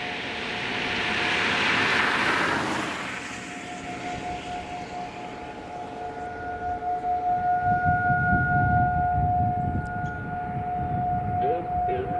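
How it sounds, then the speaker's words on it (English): A Whelen 3016 early warning civil defense siren sounds during a Monroe County, Michigan test, a steady wailing tone that rises and holds, heard from a distance outdoors with a broad rushing swell early on and a few faint voices. "This is a test of the Monroe County Early Warning Siren System."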